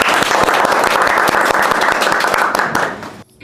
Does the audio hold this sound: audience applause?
yes